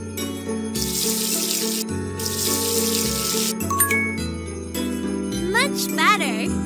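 Water runs from a tap in a cartoon makeup salon game, a bright, steady gush in two bursts. It is layered with tinkly chimes and cheerful game music.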